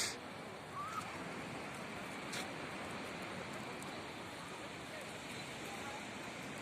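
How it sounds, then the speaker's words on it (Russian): Sea surf breaks in a bay beside a city, a dense, steady wash of broken water with wind, moderately loud and continuous, with a few faint clicks and thumps. "Ух, какой тут прибой."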